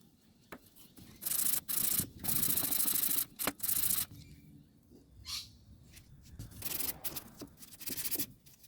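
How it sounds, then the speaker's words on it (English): Fine 1200-grit sandpaper rubs back and forth on an Echo leaf blower part in several loud bursts of strokes, separated by short pauses, with no talking. "So I need to do sanding a little bit. So with the 1200 grits sandpaper,"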